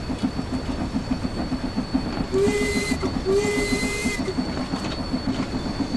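Steam locomotive whistle in the train simulator game Train Sim World 5, two steady tonal blasts about a second apart sounding over a continuous rhythmic rumble and clatter of the moving train.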